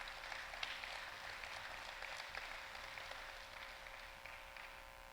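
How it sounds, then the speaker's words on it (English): Steady applause from a crowd at a high school Ring of Honor ceremony fills the whole stretch, a dense wash of clapping at moderate distance with no voices standing out. "Let's give that 1974 team a round of applause."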